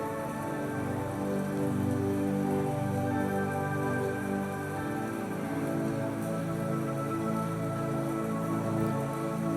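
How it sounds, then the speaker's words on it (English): Raindrops drum on the metal tin roof of a thatched beach hut, a steady, continuous patter that fills the space with no voices. "the lovely drumming sound the raindrops are tapping out on the metal roof"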